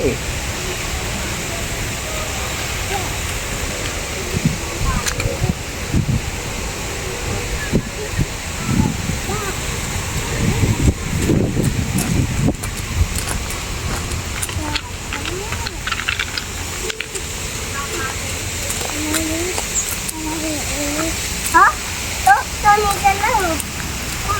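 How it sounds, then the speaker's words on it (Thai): A garden cafe waterfall pours in a steady, broadband rush of falling water that runs through the whole stretch, with people talking over it. "มีน้ำตกลงมา"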